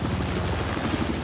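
Helicopter rotor chopping steadily in Battlefield 4 on the Hainan Resort map, a continuous loud whirring drone with rhythmic low thumping and no talk.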